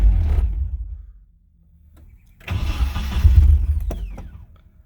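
A car engine turns over and runs roughly, surging loud then dying down, then catching again with uneven revving as it struggles to hold an idle, heard up close.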